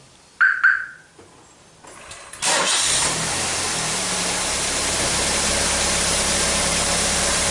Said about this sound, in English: let's start the vehicle up and check it over